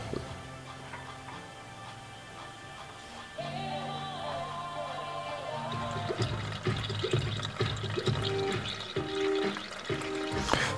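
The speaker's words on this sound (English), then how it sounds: "So let's drain some fluids." Fluids drain from an old Volvo 940 during an engine swap: a faint trickle builds into a louder splashing pour into a catch pan, with dripping and light metallic ticks toward the end.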